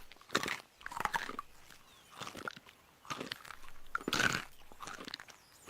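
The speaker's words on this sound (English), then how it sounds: "Granted, it takes some time to chew." Someone chews a dense vanilla glazed protein donut up close, with a run of soft, irregular bites and slow, moist mastication separated by short pauses.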